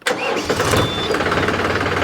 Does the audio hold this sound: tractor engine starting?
yes